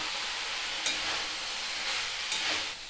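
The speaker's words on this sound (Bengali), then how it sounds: "ভালো করে মিশিয়ে নেব।" Pumpkin and potato curry stirred in a hot pan with gram, grated coconut and cumin powder, giving a steady sizzling hiss broken by two brief scraping stirs, close and alone.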